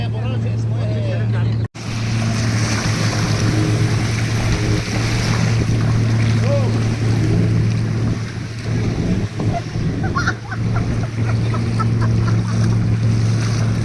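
A jet ski rides across the sea off Dubai, its engine giving a steady close hum under the rush and slap of waves, with people talking throughout.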